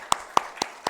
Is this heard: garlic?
no